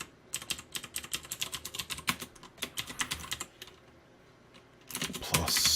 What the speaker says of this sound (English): Just a little more typing.